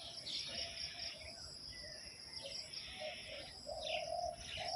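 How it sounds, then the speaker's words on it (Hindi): Birds chirp and tweet outside among dense greenery in the early morning, a steady run of small calls near and far over faint insect buzz. "तो चिड़िया का आवाज़ अच्छा लगता है सुन के"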